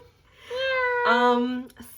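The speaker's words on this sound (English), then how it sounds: "Your cat's really loud." A house cat lets out a loud, drawn-out meow followed by a second, shorter one, close by and clear, with no talking over it.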